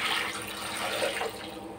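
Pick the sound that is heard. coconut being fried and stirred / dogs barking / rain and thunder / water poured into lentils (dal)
water poured into lentils (dal)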